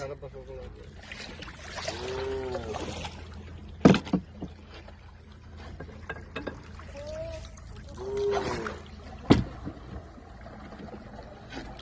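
A boat moves on a river, with soft water sloshing and dripping, two sharp knocks like a paddle or pole hitting the hull, and voices talking over it at times.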